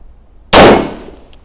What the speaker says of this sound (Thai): ทดสอบยิงเพจนะคะดูว่ามันจะ ทำอะไรเพจเหล็กได้ไหม